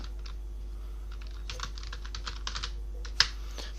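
Fingers typing on a computer keyboard while entering data into a spreadsheet, scattered soft close key clicks with one sharper tap, over a steady low hum.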